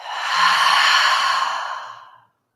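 A single long, full exhale like a sigh, close and fairly loud, swelling and then fading over about two seconds during a full moon meditation practice, with no talking.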